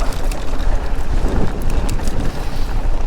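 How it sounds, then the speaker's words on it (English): Strong mountaintop wind buffets the microphone in a steady, loud roar during a mountain bike ride on a trail near Ketchum, Idaho, with gusty low rumble and no speech throughout. "Hella windy up here."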